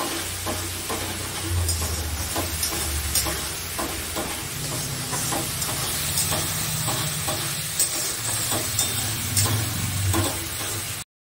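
Mutton masala for mutton kosha sizzles and hisses steadily in hot oil while being stir-fried, with a continuous close frying crackle and intermittent scraping stirs throughout, no voices.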